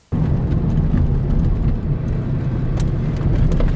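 Original four-wheel-drive Audi Quattro engine bursts in suddenly and holds a loud, deep, rumbling roar for several seconds, close by and with no voices over it.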